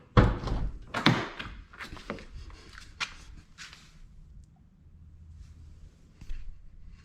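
A Nissan GT-R door opening in a quiet space: a sharp latch clunk and thump up close, then softer rattles and handling sounds that fade into near silence, with a light knock near the end.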